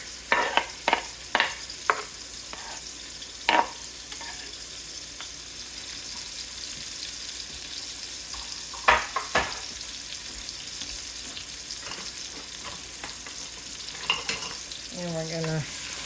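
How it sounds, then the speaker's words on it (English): Chopped onion sautés in a pan with a soft, steady sizzle. Scattered sharp clicks and scrapes from stirring recur throughout, and a few brief tonal clinks come near the end. No one speaks. "saute that for about 5 minutes till that onion gets a little"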